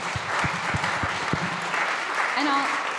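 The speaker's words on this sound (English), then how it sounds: "That deserves a round of applause." Audience applause at a SXSW 2025 panel on food as medicine, a steady wash of clapping close by, with a voice speaking through the middle of it.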